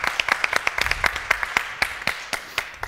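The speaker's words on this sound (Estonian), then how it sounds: "Teeme talle veel korra suure, suure aplausi juurde" A small audience claps for a performer at a forum theatre show: scattered, separate hand claps in an uneven rhythm, fairly close, with no talking.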